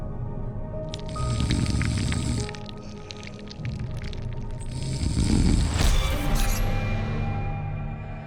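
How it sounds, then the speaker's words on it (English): Water rushing and flooding into a room, heard as a sound effect: surging, splashing liquid in two swelling bursts with dripping and squishy textures, fairly loud and close, no voices. "the sound of rushing water filled my ears"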